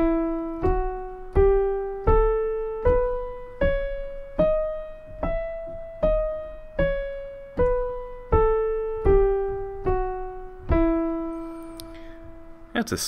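Single piano notes climb step by step through E melodic minor, then descend, each struck cleanly and left to ring in an even, unhurried jazz line.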